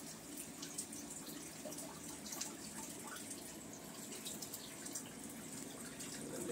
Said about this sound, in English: Got a waterfall.